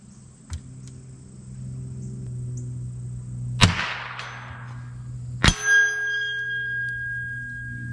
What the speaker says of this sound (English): That gong in the middle again on the bottom.